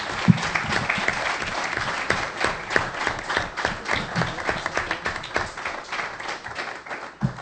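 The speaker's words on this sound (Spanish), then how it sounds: "Fuerte aplauso, por favor." Steady applause from a crowd, dense clapping that holds for several seconds and thins slightly toward the end.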